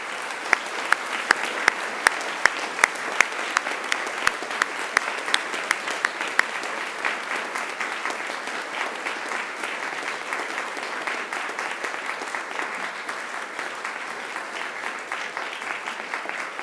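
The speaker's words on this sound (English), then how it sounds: "now it's time to give them a mighty round of applause" A large graduation audience claps loudly and continuously, with sharp individual claps standing out at first before blending into a dense, sustained applause that carries on throughout.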